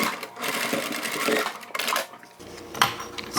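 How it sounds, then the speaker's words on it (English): Sewing machine stitching zipper tabs onto a beginner crossbody bag, a fast mechanical rattle in close bursts with brief pauses between runs. "So let's start by sewing these zipper tabs on."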